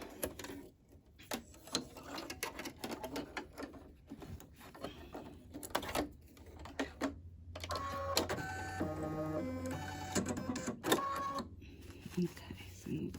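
An embroidery machine stitches down an applique heart on a planner cover, starting partway through as a steady, close mechanical whir with rapid repeating stitch pulses, after a stretch of intermittent handling clatter.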